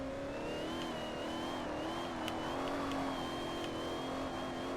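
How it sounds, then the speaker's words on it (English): A Saleen S5S Raptor's engine with its turbo whine in Forza Motorsport 4, a steady high whistle riding over a droning engine note at constant revs, moderately loud and alone. "The one thing I really like about the sound of Saleen is that turbo line."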